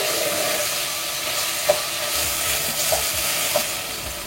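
Onions and tomatoes sautéing in a pan for a Goan red masala chicken curry, with a steady sizzle and frying hiss. A few soft stirring clicks sound up close, and nobody speaks.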